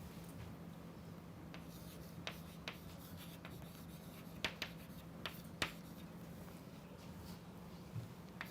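Chalk or marker strokes on a lecture board, a string of faint, sharp taps and scratches spread over several seconds against a steady low room hum, with no speech.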